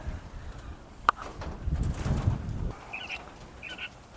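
Jumbo pharaoh quail in a wire hutch, newly moved onto wire, give soft chirps and brief rustling and flutter, with a sharp tap near the start and faint high peeps toward the end.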